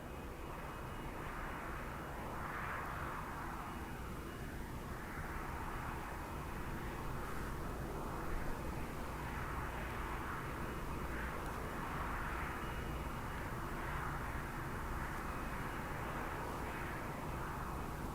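A Shuttle Carrier Aircraft, the jet airliner modified by NASA to ferry the shuttle, arrives at Kennedy Space Center; a continuous distant jet engine roar rumbles on with slowly shifting tone, no speech over it.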